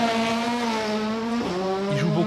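A Volkswagen Polo rally car slides through a hairpin on the handbrake during a Monte-Carlo Rally stage, its engine note dropping sharply as the tires squeal and skid, loud and close.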